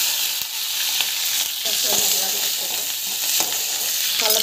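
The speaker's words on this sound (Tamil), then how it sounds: "ஸோ வெங்காயம் வந்து ஆட் பண்ணலாம்." Onions sizzling and frying in oil with mustard seeds and chana dal, a steady close crackle with occasional stirring scrapes, loud and continuous with no talking.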